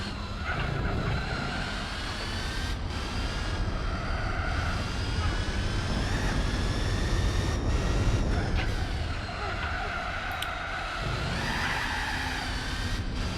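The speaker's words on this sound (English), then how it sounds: "A bit of wheel spin there as we kind of throttled all the way out and after hitting that curb bump." Engine drone and tyre noise from a race car spinning its wheels under full throttle after a curb bump in Gran Turismo 4, a steady loud mechanical roar with rising and falling whine throughout.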